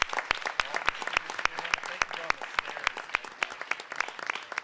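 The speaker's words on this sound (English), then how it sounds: "Let's give them a round of applause." A meeting audience claps for students entering the room, a sparse, distinct patter of individual hand claps, moderately near and not very loud, lasting several seconds.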